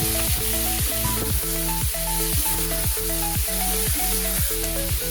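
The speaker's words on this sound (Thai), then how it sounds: "แล้วก็เริ่มผัดต่อเลยครับ" Pork belly stir-fries in a pan with cinnamon, star anise and five-spice powder, making a loud, continuous sizzle. A regular pattern of ringing tonal notes repeats in the background, with no speech.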